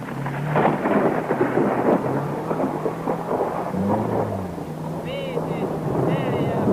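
Rain and a thunderstorm during a 1973 Finnish rally evening, a dense wash of rainfall with rolling rumbles, overlaid by someone narrating and a brief engine-like whine later on.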